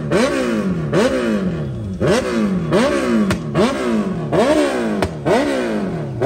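A motorcycle engine at a bike workshop in a low-cost Delhi market revs repeatedly in close, loud bursts, each rising and falling in pitch, about seven times in steady rhythm, with no talking.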